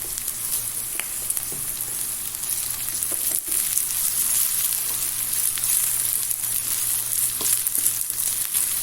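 Green onion and green chilies fry in a pan with cumin for moong masoor dal, giving a steady, close sizzle with a few faint stirring clicks and no talking.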